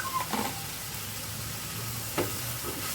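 Garlic and spices dry-roasting in a pan for a lobhia seekh kabab masala give a faint, steady sizzle, broken by a couple of brief soft scrapes from stirring. No voices.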